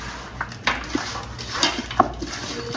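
Chicken for dum biryani being mixed by hand in a pot at home, with soft irregular clanks and scrapes of a utensil against metal, close by, accompanied by light wet patter.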